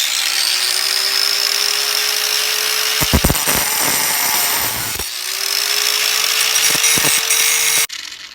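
An angle grinder cuts through a golf club shaft in a home workshop, a loud sustained high whine with rough grinding bursts as the disc bites, a brief easing midway, then the motor cutting off abruptly near the end.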